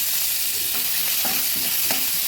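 Chopped onion and five-spice hit hot oil in a pan that already held fried fish and potatoes, making a loud, continuous sizzle with a few stirring scrapes.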